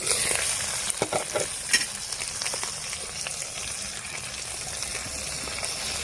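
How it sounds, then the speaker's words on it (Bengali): Spice paste of ground onion, garlic and chilli sizzles and fries with shol fish curry, aloo, brinjal and drumsticks in a pan, a steady close hiss with scrapes of stirring throughout, no talking. "এবারে খুব ভালো করে মশলার সঙ্গে কষিয়ে নেব সব কিছু"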